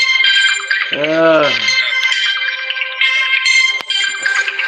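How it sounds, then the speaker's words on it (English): A mobile phone ringtone plays loud and continuous, its bright melodic tones repeating, with a brief voice cutting in near the start, during a live morning talk show. "Somebody's ringing."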